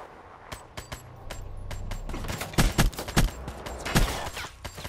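Gunshots ring out in Call of Duty: Black Ops III, a string of sharp, irregular cracks, some quick doubles and louder close shots mid-sequence over low background rumble.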